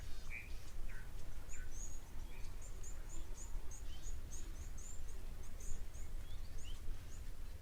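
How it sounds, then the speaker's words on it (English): Several small water birds, coots, call from a waterhole in short high chirps and twitters scattered across the scene, fairly faint and distant over a steady low outdoor rumble. "Those coots, those water birds,"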